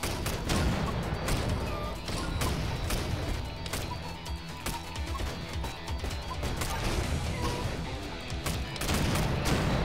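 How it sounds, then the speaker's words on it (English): Dense, continuous bursts of explosions and impacts crackle through a frantic moment of the Octogeddon video game, loud and overlapping with no pauses. "Yeah, lots of explosions."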